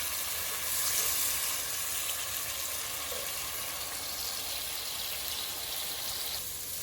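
Tomato masala for Punjabi matar paneer simmering covered over medium heat, giving a steady, soft sizzling hiss with faint bubbling throughout and no talking.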